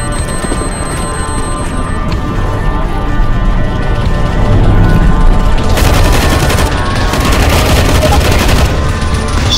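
Dense, continuous gunfire from CS:GO on the zombie escape map ze_tkara_v4_3, loud rapid automatic bursts layered over each other with no pause, growing fuller and harsher in the second half.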